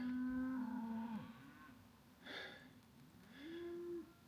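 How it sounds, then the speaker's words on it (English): Cattle low out in an open field beside a trail near Flagstaff, Arizona: two drawn-out moos, one near the start and one near the end, faint and distant, with a soft snort between them. "Look at all them cows out there."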